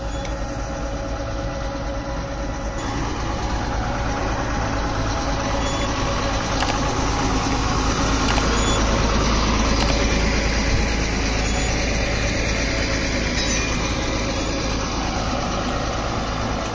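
A truck loaded with wedding decoration gear sits with its engine idling, a steady low rumble that holds loud and unbroken from start to finish, with faint traffic around it.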